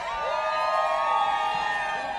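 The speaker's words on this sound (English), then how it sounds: "This crowd is the best crowd I think that we ever have, which is a very, very big deal." A large outdoor crowd cheering in Jackson Square, New Orleans, a sustained roar of voices with rising and falling whoops, steady and fairly distant.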